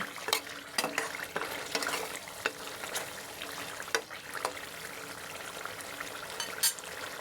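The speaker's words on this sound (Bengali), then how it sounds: "এর মধ্যে এখন আমি কাঁঠালের বিচি ও কয়েকটা রসুন দিয়ে দিব এবং ভালো করে নেড়ে চেড়ে মিশিয়ে দেব" Beef is stirred with jackfruit seeds and garlic in a pan: a quiet sizzle runs under repeated sharp scrapes and clinks of a spatula against the pan at an irregular pace.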